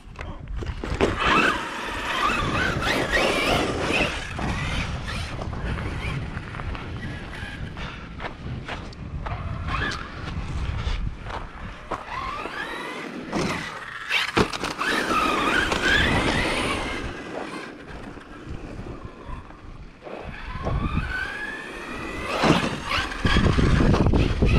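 Team Corally Kagama 6S RC car with belted tires and a center diff, running fast nearby, a continuous loud whining motor with tire squeal and skids rising and falling as it passes, with occasional excited voices.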